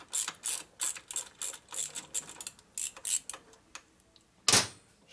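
Hand ratchet tightening a regular nut while rebuilding a 1947 Harley-Davidson EL knucklehead 74ci motor; a close series of rapid clicking bursts in a steady rhythm, ending with one louder sharp snap, no talk.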